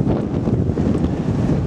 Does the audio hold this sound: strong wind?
yes